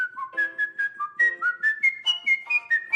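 A champion whistler whistles a bright, agile melody of short rising and falling notes, a clear solo tone with steady pulses and no talking.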